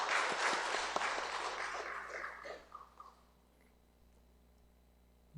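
A church congregation at a Sunday worship service applauds, a dense wash of clapping that holds for a few seconds, then thins into scattered claps and fades to near silence.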